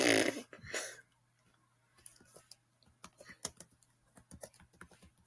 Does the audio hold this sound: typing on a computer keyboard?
yes